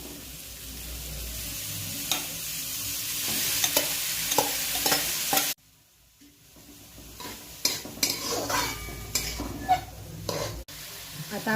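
Paneer with turmeric and salt stirred and fried in a pan, a steady sizzle with repeated scraping and clinks of a spoon against metal, cutting out briefly midway before the stirring clatter resumes.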